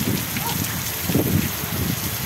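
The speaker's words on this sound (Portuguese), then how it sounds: "Muita chuva, hein, pessoal?" Heavy rain pours down steadily in Bom Jesus da Lapa, Bahia, a dense continuous hiss of drops hitting surfaces, loud and unbroken throughout with no voices.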